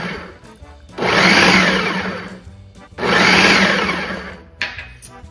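A food processor chops olives for an olive spread, with two loud whirring bursts of roughly two seconds each separated by a brief lull, the motor close and harsh.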